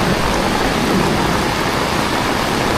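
Rain falls at an outdoor cattle market, a dense, steady wash of loud broadband patter close by with no break and no talk.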